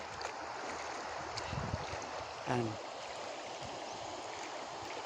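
Magtangkob river flowing steadily as a broad, even wash of running water, with a brief voice and a faint knock partway through.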